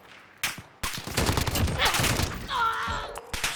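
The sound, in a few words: gunfire from a gun in the video game Call of Duty Modern Warfare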